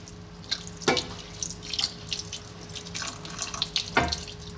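A small amount of water runs and splashes into a pan for frying pork, close up, with two sharper pouring bursts and light trickling and drips in between.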